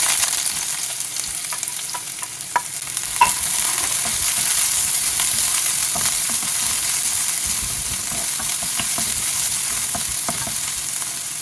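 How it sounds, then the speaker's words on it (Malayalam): Lengthwise-sliced onion fries in hot oil with spluttered fenugreek seeds for a thick chicken curry, producing a loud, constant sizzle with occasional stirring scrapes and small pops throughout. "ഇനി ഇതിലേക്ക് ഒരു ചെറിയ സവാള അരിഞ്ഞത് നീളത്തിലരിഞ്ഞത് ചേർത്ത് കൊടുക്കും"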